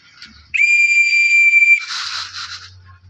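A feeding whistle blown to call birds gives one loud, steady shrill tone of about a second. A softer burst of noise follows it, and a low hum runs underneath.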